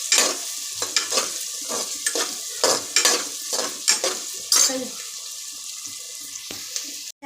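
Green chillies sautéing in a pan, with a steady close sizzle under repeated scraping stirs of a spatula that come in bursts, then the frying settles to a quieter hiss near the end.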